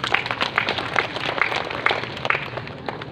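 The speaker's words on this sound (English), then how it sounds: "I think everyone deserves a round of applause again." Audience applause at a municipal gathering in Hilongos, Leyte, a busy patter of many hands with a few sharper individual claps standing out, steady and moderately loud throughout.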